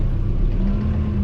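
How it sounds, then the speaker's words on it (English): A John Deere 4052R compact tractor grading a gravel lot runs with a loud, steady mid-pitched engine drone and rumble, continuous and close, with no talk over it. "I've only got 97 hours on this tractor"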